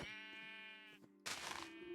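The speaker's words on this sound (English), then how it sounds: "Oh, and there's sheep." Sheep in Minecraft bleat in a drawn-out, wavering cry, followed after a short gap by a brighter, noisier burst, all fairly close and with no talking.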